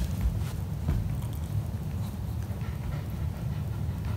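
A dog pants steadily up close, its quick rhythmic breaths running continuously over a low rumbling background with no voices.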